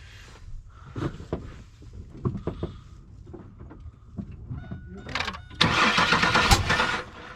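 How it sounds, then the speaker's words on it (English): A 1999 Pontiac Firebird or 1970 Chevrolet Nova being cranked after sitting, with clanks and voices nearby, then the engine catches into a loud rough roar with sharp pops near the end. "Did y'all see it backfire?"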